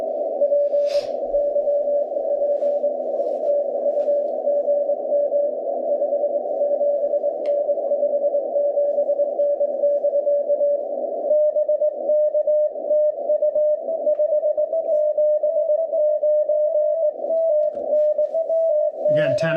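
Continuous CW Morse code tones from two overlapping amateur radio stations at a POTA park activation, a steady pitched beeping with faint variations, loud and unbroken over radio hiss.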